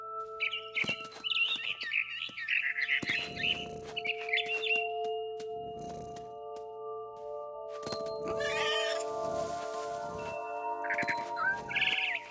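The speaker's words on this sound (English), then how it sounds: "Then I heard chirping outside my window. It was a barn swallow going back to her nest." A barn swallow in the game What Remains of Edith Finch chirps in fast, frightened bursts across a dozen seconds, with repeated alarm calls that stand out sharply against a steady background hum of tones.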